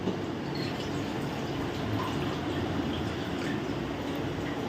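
Water poured into a cooking pot of brinjal and chickpea curry with masala, a steady soft splashing flow heard fairly faint and continuous, with no talking.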